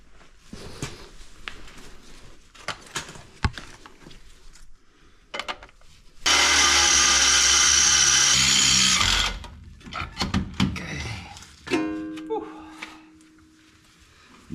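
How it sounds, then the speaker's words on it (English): A power drill whines loudly for about three seconds with a 13/32-inch bit into the body of a new 2025 Jeep Gladiator Rubicon, then spins down; brief clattering and tool handling come before and after, with a short second drill burst near the end. "Nothing like drilling into a brand new Gladiator."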